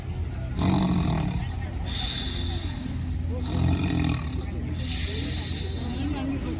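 A boy at a district-level talent contest imitates his grandfather's deep, rumbling snoring in long drawn breaths, repeating in a slow steady rhythm, loud and close.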